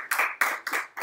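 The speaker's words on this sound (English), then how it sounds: "Let's give one more round of applause for Nitin." A few quick hand claps, about four sharp slaps in a brief burst, close by.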